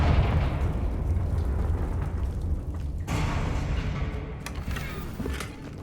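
Confringo spell blasts in Hogwarts Legacy gameplay, a continuous rumbling roar of fiery explosions with a sharper burst near the middle and crackling pops later, loud and dense throughout.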